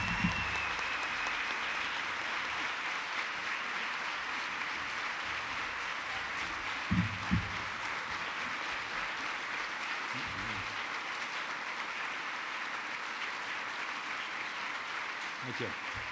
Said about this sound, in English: give a big round of applause to our host for tonight, Mr. Ernest Thompson